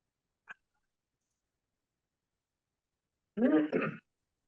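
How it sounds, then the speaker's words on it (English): A short faint click, then after a pause a single brief, rough throat clearing nearby, followed by silence. "is clearing his throat, getting ready for a question"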